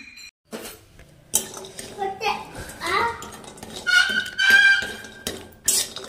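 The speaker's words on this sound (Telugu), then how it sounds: "ఇవి కొంచెం దూరగా అయ్యే వరకు వీటిని అయితే వేయించుకోవాలి" Seeds and nuts being dry-roasted in a pan at home, with repeated clinks and scrapes of a spoon against metal cookware, some louder clatters, and a voice speaking now and then in the background.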